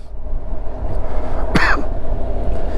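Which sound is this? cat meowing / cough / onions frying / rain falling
cough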